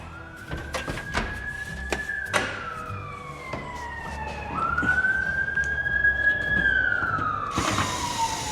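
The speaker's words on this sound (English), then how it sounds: "Fire trucks running by." Fire truck sirens wail past on a nearby road, a rising and falling tone that swells louder and shifts pitch as the vehicles go by, mixed with scattered clanks and knocks close by.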